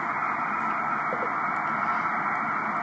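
A steady band of hissing, crackling shortwave radio static on the 30-meter band fills the clip with no voice or signal coming through.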